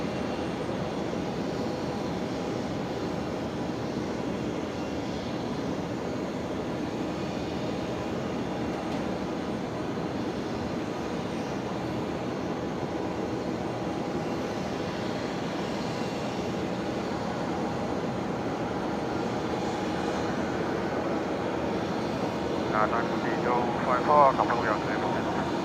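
A Royal Flying Doctor Service Beechcraft King Air turboprop takes off from runway 01 right at Brisbane Airport, its engine a steady, broad distant drone that builds slightly toward the end.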